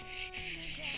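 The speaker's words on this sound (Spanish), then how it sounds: "Simplemente se trata de lijar la madera de forma muy suave, usando solamente el peso de nuestra mano." Light hand sanding of teak wood on a boat, a soft, steady rubbing hiss in gentle strokes, quiet and close, with no talk.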